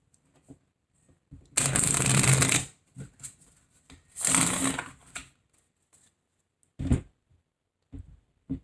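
Tarot cards being shuffled in two long riffling bursts, close and crisp, separated by soft taps and light handling of the deck.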